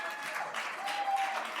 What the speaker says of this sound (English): Thank you for the applause for that